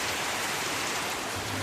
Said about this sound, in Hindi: जोर से बारिश हो रही है अभी